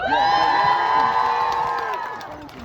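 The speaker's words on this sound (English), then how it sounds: "Cheer if you know" A rally crowd at a 2022 Bans Off Our Bodies abortion-rights event lets out a loud, sustained cheer with high whoops and shouts, fading slightly toward the end.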